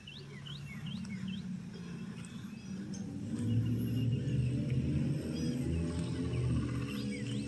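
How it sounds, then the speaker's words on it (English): Blue jays call from the woods of a residential neighborhood, with scattered sharp, rising cries early on over a constant low rumble and insect-like background hum, moderately distant. "the blue jay are creating quite a ruckus"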